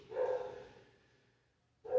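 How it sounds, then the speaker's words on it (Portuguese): A dog barks indoors during a live religious discussion stream, two loud, close, short barks separated by a brief quiet gap, with no talking over them. "nós temos aqui um cachorro que participa conosco da nossa live"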